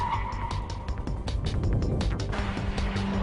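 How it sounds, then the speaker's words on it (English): Honda Integra DC2 Type R braking hard from about 95 mph, a sustained road roar with faint tire noise as the car slows, loud and close throughout. "now, the full braking test from about 95 miles per hour"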